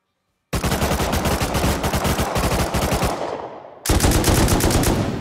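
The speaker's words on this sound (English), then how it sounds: "I haven't shot on Rust in so long." Rapid automatic gunfire from the video game Rust rattles out in two loud, close bursts separated by a brief pause.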